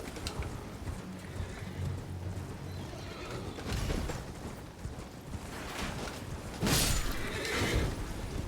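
A horse neighs and whinnies amid clip-clopping hooves during mounted combat in Elden Ring, with loud bursts near the end over a busy background of game sounds.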